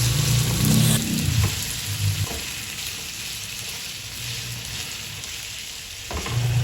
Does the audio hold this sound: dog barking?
no